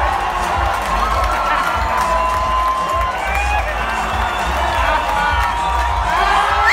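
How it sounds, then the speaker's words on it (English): A large crowd at a Dodgers baseball stadium during a hot-day game against the Kansas City Royals cheers and whoops steadily, with scattered shouts and clapping running throughout. "Fans were cheering the woman's dancing on the video board"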